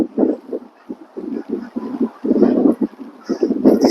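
Strong wind gusts outdoors ahead of a cold front, buffeting the microphone in loud, uneven rumbling bursts that rise and fall throughout.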